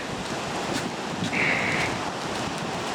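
Sea waves wash steadily onto Brzeźno beach, a continuous surf rush with a brief higher hiss near the middle.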